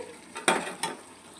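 Mutton pulao masala frying in oil in a pan, a soft sizzle with two brief stirring scrapes of a spoon, close and fairly quiet.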